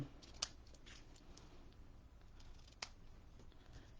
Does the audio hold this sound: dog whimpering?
no